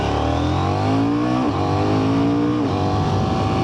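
A 2024 KTM 990 Duke motorcycle engine runs steadily and loud while riding, its pitch climbing and dropping as the rider shifts through gears, with no voices.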